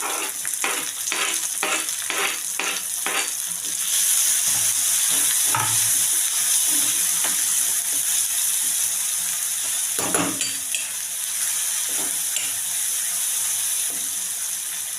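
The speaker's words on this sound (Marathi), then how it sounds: "लसूण थोडंसं गोल्डन झाला की आपण कांदा ॲड करूया आणि टमाटो पण" Onion and tomato sizzle and fry with golden-browned garlic in a pan, a steady loud crackle with intermittent stirring scrapes and clatter throughout.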